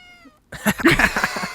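A house cat meows loudly and close during a podcast recording, a drawn-out vocal cry with a few quick, irregular bursts, heard on its own with no talking.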